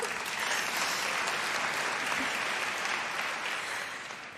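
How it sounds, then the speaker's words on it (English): Audience applause at the European Film Awards ceremony in Reykjavík, a dense, loud sustained clapping from a large crowd that holds steady and then begins to fade near the end. "I clap to you."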